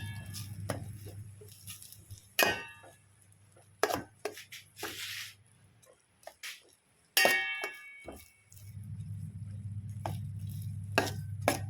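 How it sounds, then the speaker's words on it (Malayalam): Food stirred in hot oil in a pan, a low steady frying hiss broken by sharp scraping and clattering strokes of the spoon, with a quieter gap midway before the sizzle returns. "ഈ ചൂടുള്ള എണ്ണയിലേക്ക് നമ്മൾ ഇതാണ്ട് ഇടും. നന്നായിട്ട് ഇളക്കി കൊടുക്കണം."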